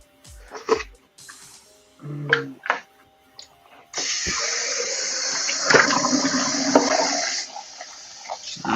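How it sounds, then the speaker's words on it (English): A toilet flushes with a loud, steady rush of water lasting several seconds, heard indoors from nearby after a few scattered knocks and thumps. "Oh, it sounded like she flushed the toilet."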